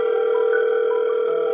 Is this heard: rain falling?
no